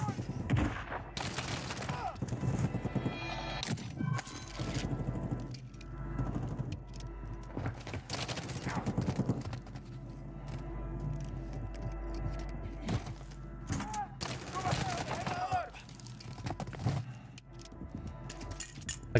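Single-fire gunshots in the video game Modern Warfare 3, repeated sharp reports at irregular intervals over ongoing battle noise, mechanical clatter and faint background voices.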